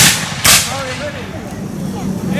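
Rifle volley at a Civil War reenactment weekend: one sharp, loud crack early on, then a long rumbling echo fading across the open field.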